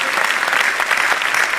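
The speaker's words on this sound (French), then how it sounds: "je vous demande d'applaudir Marc Tiercelin, Arnaud Boissière, Jean Lecam" An audience applauding sailors of the Transat Jacques Vabre at a live broadcast event in Le Havre, a dense, steady roar of many hands clapping, loud and continuous.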